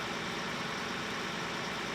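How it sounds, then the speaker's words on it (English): A vehicle engine in the farming game Farming Simulator 2013 runs at high revs as a steady, dense, loud drone with no talking. "Here the revs go up."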